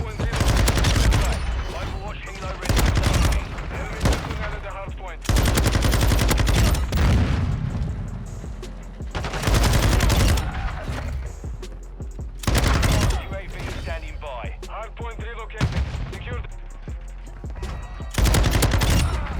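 Bursts of rapid automatic fire from a Sakin MG38 light machine gun in Modern Warfare 2, loud and close, coming in repeated sustained volleys separated by short gaps, with faint voices underneath.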